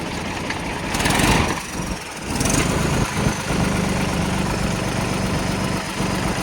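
A Mahindra 295 tractor engine runs at a steady idle, a continuous mid-pitched rumble with a louder rise around the second second, and no talking.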